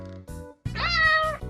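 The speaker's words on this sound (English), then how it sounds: "A cat makes a meow sound." A cat meowing: one clear, drawn-out meow rising then falling, close and loud, after a brief softer lead-in, with no voices.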